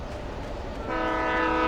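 Low rumbling of a train in Alan Wake Remastered, then a sustained horn blares in over it, loud and close.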